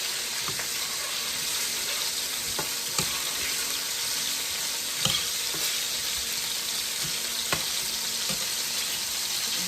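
Bacon sizzling and frying in a pot while a utensil stirs and scrapes the bottom, a steady bright crackle with occasional sharper clicks and scrapes, close and continuous, with no talking.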